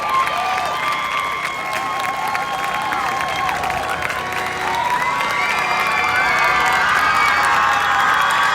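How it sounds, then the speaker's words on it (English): A crowd at a Viera Hawks versus Bayside Bears Friday night football game applauds and cheers the 2022 homecoming court, with loud continuous clapping, shouts and whoops throughout and rising toward the end. "let's give everybody a round of applause"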